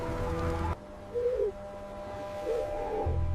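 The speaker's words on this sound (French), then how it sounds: "Le hibou le plus ancien, détenteur de sagesse millénaire." An owl hoots in two soft, low, separate calls, the first short and the second longer, faint against a quiet background, with a brief low musical sound at the start and end.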